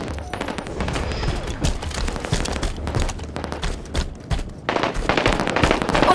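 Dense gunfire during a Halo 5 Big Team Battle Assault match on the Echoes map, with overlapping bursts of automatic shots and booming blasts crackling throughout at close range, and brief game announcer voices in between.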